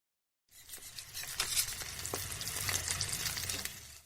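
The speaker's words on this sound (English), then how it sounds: "He puts a frying pan on the burner and melts some butter in the pan." Butter melts in a frying pan on a lit gas burner. After a brief silence, a close, steady sizzle starts and keeps crackling and popping at a fairly even level with no talking.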